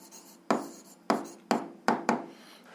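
Writing out an algebra equation by hand, five crisp separate strokes spaced about half a second apart, close and clear with no talk.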